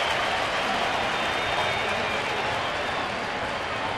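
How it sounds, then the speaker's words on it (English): A baseball crowd at a White Sox home game against Cleveland rises in steady, distant cheering and applause as the Sox finally score, a broad even roar with no single voices standing out. "the White Sox fans facetiously stand and cheer as their team will not be shut out for a 3rd straight game"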